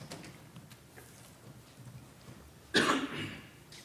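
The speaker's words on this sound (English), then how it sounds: "don't you start coughing" A single sharp cough bursts out near the end, loud and close, after a stretch of quiet room noise at a county fiscal court meeting.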